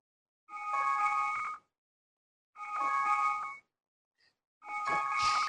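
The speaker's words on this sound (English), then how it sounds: "just click at this bell icon up here. And it will immediately ring a bell." A bright electronic chime from a smartboard timer rings three times in steady, evenly spaced bursts, each lasting about a second with silence between.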